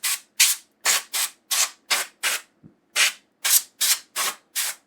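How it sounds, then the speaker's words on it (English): Compressed air from a can sprayed in short hissing bursts inside an opened TurboGrafx-16 (PC Engine) console, about a dozen quick blasts in an irregular rhythm, close and fairly loud, with no talking. "I'll do a quick spray out with a can of air."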